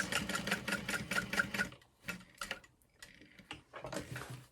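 A sewing machine stitches a large handbag, starting with a rapid rhythmic burst of needle clatter, then pausing and running in shorter stop-start bursts as it backstitches and moves forward, close and moderately quiet.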